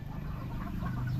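Chickens on a small farm, including a hen close to hatching chicks, cluck softly and continuously in a short, fairly quiet burst with steady low murmuring.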